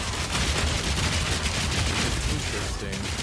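Grenades firing in the game Path of Exile 2: a dense, continuous barrage of crackling explosive bursts and rapid pops, loud and sustained without a break.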